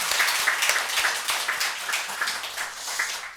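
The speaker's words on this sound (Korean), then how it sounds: "우리 수고하신 모든 분들을 위해서 다시 한번 뜨거운 박수 한번 부탁드리겠습니다" A church congregation claps for everyone who served in the church school, a moderate, continuous round of applause with distinct individual claps, without voices.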